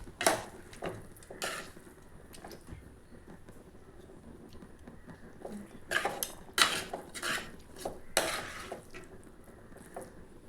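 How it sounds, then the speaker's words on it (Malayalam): Chicken tossed with masala spices in a pan is stirred with a utensil, giving intermittent scraping and clinking strokes against the metal, some in quick bursts, close and fairly quiet with no talking. "നല്ലവണ്ണം ഇളക്കി മസാലകളൊക്കെ മസാല മുളകൊക്കെ ചിക്കനിൽ പിടിക്കുന്നത് വരെ നന്നായിട്ട് ഇളക്കി വെക്കുക"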